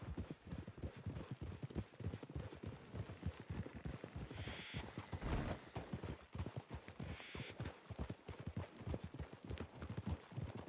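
Horse hooves clip-clop steadily on the ground in the Western video game Red Dead Redemption 2, a continuous rhythmic trot with a couple of brief whinnies, fairly quiet overall.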